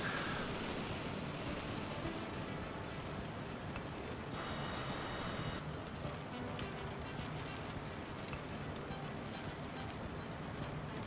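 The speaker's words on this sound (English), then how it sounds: "like a freaking torrential downpour" Torrential downpour in Flight Simulator 2020, heard from a CJ4 jet in flight over Colombia toward Ecuador, a dense, steady roar of heavy rain lasting throughout with no voices.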